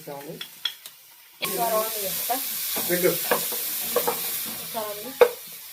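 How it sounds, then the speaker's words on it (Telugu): Grated carrot frying in a pan while being stirred, a continuous sizzle with scraping stirs, preceded by a short quiet stretch with a voice speaking; talk continues over the frying. "క్యారెట్ మనం తిప్పుతా ఉండాలండి తిప్పకపోతే ఊరికే మాడిపోతా ఉంటది"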